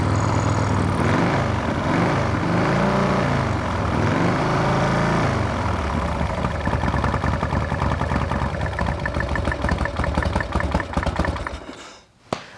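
A Harley motorcycle engine idles close by, a steady throbbing rumble that shifts and quickens partway through before cutting off near the end.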